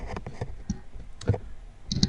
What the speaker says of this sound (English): we can hear pounding on your keyboard